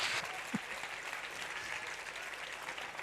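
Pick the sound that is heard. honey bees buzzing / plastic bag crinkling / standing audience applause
standing audience applause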